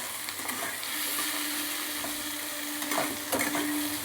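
Chopped vegetables for a bottle gourd chicken dish sautéed and stirred in a hot pan, giving a steady, close frying hiss with a few scraping clinks, no talking.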